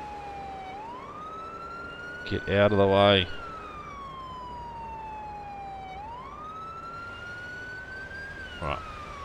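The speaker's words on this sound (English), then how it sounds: "Can't you see and hear the siren?" Police car siren from the game Police Simulator: Patrol Officers, a wailing tone sweeping slowly up and down and holding steady throughout, with someone shouting briefly over it partway through.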